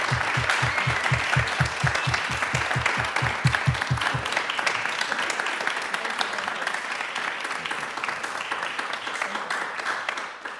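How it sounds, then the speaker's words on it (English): An audience at an artists' panel discussion gives the panelists a long round of applause, dense clapping that stays steady and fairly close, while a low rhythmic thumping pulses underneath during the first few seconds before fading out. "give one last really big round of applause to our panelists"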